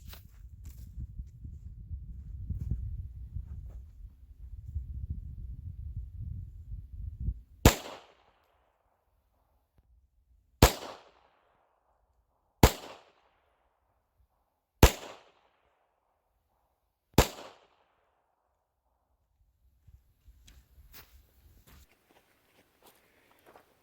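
A custom Wilson pistol fires five shots at a target 10 yards away, each a sharp isolated crack spaced a few seconds apart, preceded by low rumbling handling noise and followed by faint shuffling.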